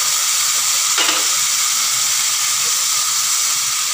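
Mushrooms, beef and onions sautéing in a pan for a creamy beef mushroom dish, a steady, bright hissing sizzle throughout with a brief clatter of stirring near the start, close and without talking.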